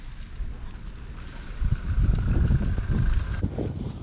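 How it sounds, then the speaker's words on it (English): Strong wind buffets the microphone at a rainy wild camping spot, loud, gusty and low, swelling midway and easing near the end. "It's a bit windy."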